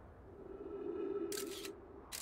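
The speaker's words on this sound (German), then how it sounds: "Eine Kamera rumgeschossen." Camera shutter in the game Outer Wilds, two quick clicks close together against a faint steady hum, one near the middle and one at the end.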